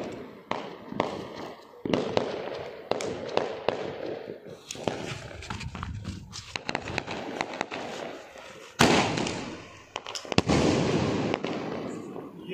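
Sky shot fireworks burst repeatedly at a Diwali celebration in Haldwani, sharp loud bangs and crackles at irregular intervals, fairly close, with people talking and shouting between blasts.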